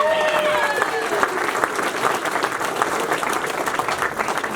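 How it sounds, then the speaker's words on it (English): Banquet audience at the White Mountain champions' banquet breaks into sustained, dense applause, close and loud throughout, with a few whoops and voices mixed into the clapping. "give him a round of applause"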